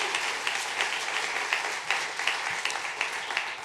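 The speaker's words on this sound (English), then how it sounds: "Let's have another round of applause." An audience claps at a dedication ceremony for a new School of Public Policy building, producing a continuous wash of clapping with a few sharper individual claps standing out at a moderate level.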